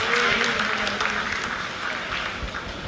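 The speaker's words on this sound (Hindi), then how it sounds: "Lot of applause indicates that till now the performance has been nominal." Applause from a crowd in the ISRO control room during the Chandrayaan-3 lunar landing, a steady dense wash of clapping throughout with no pauses.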